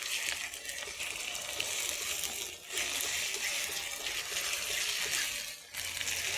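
Garlic paste lightly frying in a pan gives off a steady close sizzle and crackle, dipping briefly twice as the food is stirred.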